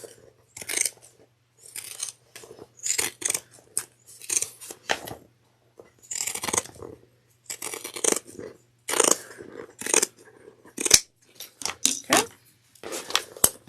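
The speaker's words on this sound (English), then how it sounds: "You could do notches around the curves with regular scissors." Repeated sharp snipping of regular scissors cutting notches around the curves of fabric, a steady series of short crisp cuts close by, with brief pauses between.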